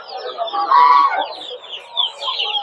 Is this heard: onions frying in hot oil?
no